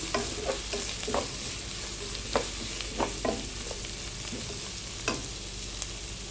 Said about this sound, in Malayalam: നന്നായി ഇറക്കി കൊടുക്കുക ഇഞ്ചി വെളുത്തുള്ളി അതിൻ്റെ പച്ച മണം മാറുന്നവരെ ചെറുതായിട്ടൊന്ന് ഇറക്കി കൊടുക്കാം